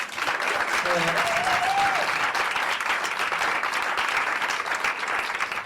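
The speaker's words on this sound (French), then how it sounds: "vous pouvez l'applaudir bien fort" Audience applause for Pamela, a journalist guest on a comedy show, a steady wash of clapping from a crowd, with a brief whoop near the start and some talk underneath.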